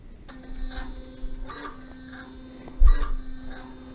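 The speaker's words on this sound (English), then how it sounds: "So we're going to press the start-stop key to start the pump." A Grundfos DDA digital dosing pump starts up and runs, giving soft, regular mechanical ticks and pulses over a constant electrical hum, with one louder thump partway through.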